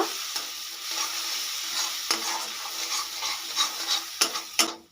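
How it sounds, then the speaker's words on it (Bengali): Chilli, cumin, coriander and turmeric powders sauté in hot oil, giving a continuous soft sizzle with a spoon scraping and clinking against the pan in quick irregular strokes, louder near the end. "সব মশলাগুলো এবার আমি একসঙ্গে খুব ভালো করে কষিয়ে নেব"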